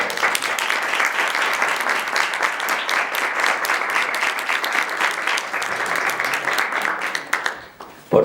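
A round of applause from the audience at a Spanish-language roundtable talk, dense steady clapping that holds for about seven seconds and then fades out.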